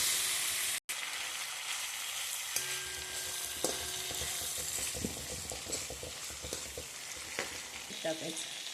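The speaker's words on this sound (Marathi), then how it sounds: "मीठ टाकून चांगला परतून घ्यायचं बरं का" Flat beans sizzling in a pan with red chili, turmeric, ginger-garlic paste and homemade masala, a steady frying hiss broken by scraping stirs and clinks of a spoon, close and fairly quiet with no talk.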